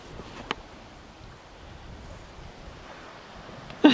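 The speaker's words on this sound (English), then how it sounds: "Or is it just the waves going up and down?" Ocean waves wash onto the shore as a soft, continuous surf hiss, partly masked by wind buffeting the microphone, with a couple of brief thumps near the start and the end.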